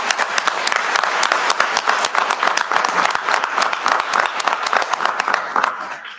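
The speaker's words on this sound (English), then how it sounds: "So let's give him a round of applause for his service," At a school board meeting, an audience claps in a round of applause for a retiring teacher and veteran, the individual hand claps crisp and rapid, loud and close, holding steady for about six seconds.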